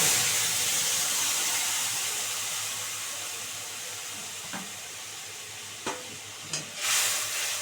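Mango with green chili and mustard paste cooking in a pan, giving a continuous faint hiss and sizzle, with a few soft scraping knocks of stirring toward the end.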